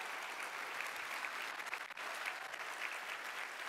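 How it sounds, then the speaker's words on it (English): A QuakeCon gaming convention audience applauding, a dense, even wash of many hands clapping, sustained and moderately distant, with no voices over it. "another round of applause for those awesome folks."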